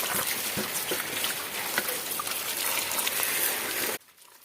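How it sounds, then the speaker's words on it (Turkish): Mixed winter pickle vegetables being washed in plenty of water, a steady close splashing and trickling that runs continuously without voices, then stops abruptly near the end. "Bol suda şimdi yıkayacağız."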